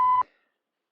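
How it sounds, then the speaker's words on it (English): A single steady voicemail beep sounds clearly for about a fifth of a second, then cuts off into silence before the message begins. "Leave a message at the beep"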